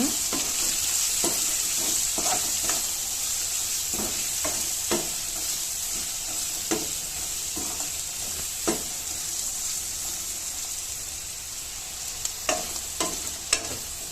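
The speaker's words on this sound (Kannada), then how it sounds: "ಈಗ ಧನಿಯಾ ಪುಡಿ ಮೆಣಸಿನ ಪುಡಿ ಮತ್ತು ಗರಂ ಮಸಾಲ ಹಾಕ್ಕೊಂಡು ಒಂದು ನಿಮಿಷ ಫ್ರೈ ಮಾಡ್ಕೊಳ್ಳೋಣ" Coriander powder, chili powder and garam masala fry in a pan with a continuous bright sizzle, broken by frequent scraping stirs and spoon taps that grow busier toward the end; no voices.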